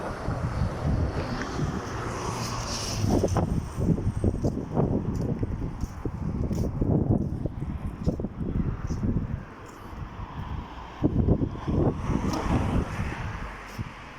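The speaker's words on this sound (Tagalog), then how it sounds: "Sarap ng simoy ng hangin. Hindi siya malamig masyado." Outdoor wind buffets the microphone in a continuous low rumble, with gusts swelling and easing and a faint airy hiss above.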